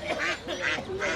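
Ducks quacking at a rural market in Bangladesh, three loud close honking quacks in quick succession.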